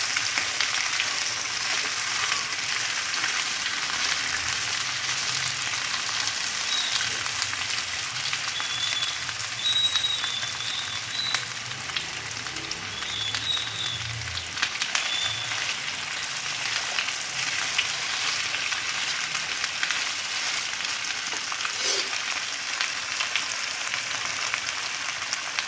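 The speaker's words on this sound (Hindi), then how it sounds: "आलू को हम इस वक्त तक भूनेंगे जब तक कि ये ब्राउन ब्राउन ना हो जाए और सॉफ्ट ना हो जाए" Potatoes browning in a pan, frying as a dry bhujia without added water, give a steady close sizzle and crackle that runs continuously, with faint scrapes of stirring now and then.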